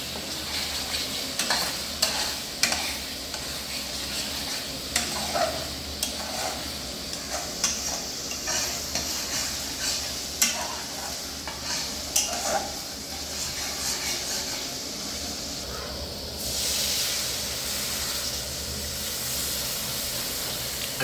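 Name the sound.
stirring and sautéing masala for pabda fish curry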